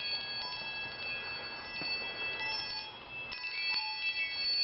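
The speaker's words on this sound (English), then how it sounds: "I found another wind chime." A wind chime rings outdoors near bird feeders, with scattered light metallic tones sounding over a soft background hiss.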